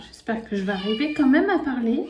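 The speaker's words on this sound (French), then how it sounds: "vous allez l'entendre miauler" A kitten meows in short rising and falling cries, close and fairly loud, almost continuous over someone talking in French in a home setting.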